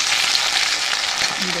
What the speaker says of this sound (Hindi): अब तेल मेरा गरम हो गया, इसमें हम डाल दिए हैं।